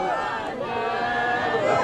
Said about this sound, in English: This is the crowd up on the Esplanade by Edinburgh Castle.